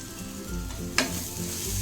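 Tomato and onion masala with chili powder and ginger-garlic paste frying in a pan for kaju curry, a steady close sizzle with one sharp clink of a spoon midway and no talking.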